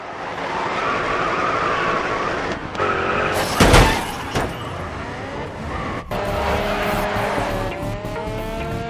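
Race cars in the PC racing game GRID Autosport roar at high revs with loud, sustained engine drone, tires squealing and skidding through a hard slide midway, then engines climbing again.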